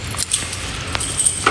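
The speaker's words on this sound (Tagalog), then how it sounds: "And ito na yung susi." A bunch of keys to a new apartment unit jangles close by in short, light metallic clinks and rattles, scattered irregularly over a moment with no talking.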